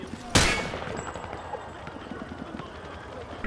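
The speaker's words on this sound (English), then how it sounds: "Grab that weapon off the table and fire at the targets behind you." A single sharp gunshot from a weapon fired at range targets in the video game Modern Warfare 2 rings out loudly near the start, followed by a noisy, busy background of faint game sounds.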